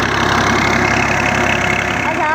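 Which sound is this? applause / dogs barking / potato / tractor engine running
tractor engine running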